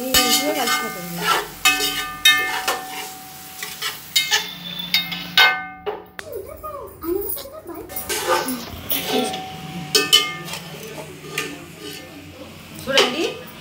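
A veg fried rice with spice powder is stirred in a pan, producing scraping and clinking of a spoon against metal over a steady frying sizzle, with someone speaking throughout.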